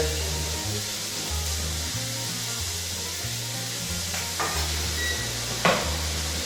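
Food frying in a pan during Easter cooking in a hotel kitchen gives a constant, even sizzling hiss under a steady low background hum, with a couple of brief clatters near the end.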